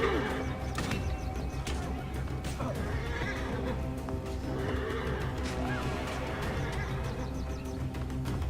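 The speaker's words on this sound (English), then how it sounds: "Wonder if there's a horse nearby." A horse neighs and whinnies amid Assassin's Creed Origins game-world ambience, with hooves clopping and a busy background bed of noise throughout.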